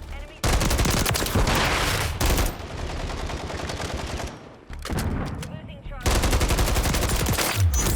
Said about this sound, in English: if you use an SVA, it fires the first 2 shots faster